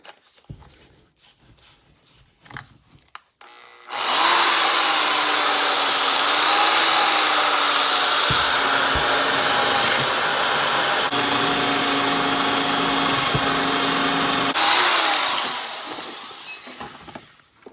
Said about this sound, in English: take these bolts and put a little wire brush to it, get it cleaned up